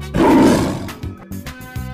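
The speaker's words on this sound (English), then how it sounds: "Tiger." A tiger lets out a loud, close roar that swells and fades, followed by a few shorter growling rumbles.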